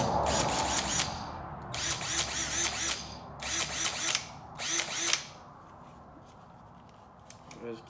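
Bauer 1792C-B1 1/2-inch corded hammer drill whirring in four short, loud bursts of a couple of seconds each, with brief pauses between, then falling quiet.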